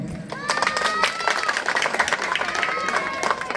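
A crowd applauds at a village bridge foundation-stone ceremony, with dense, continuous clapping close by, mixed with crowd murmur and voices underneath.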